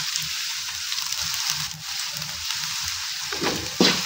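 Garlic and onion frying in a pan, a steady soft sizzle running throughout with a brief louder crackle near the end, no talking.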